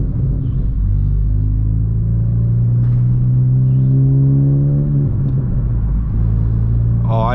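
Exhaust from a 2020 Honda Civic Si fitted with a PRL downpipe drones steadily through low-RPM shifts, its tone climbing and then dropping at each shift, heard as a continuous close rumble.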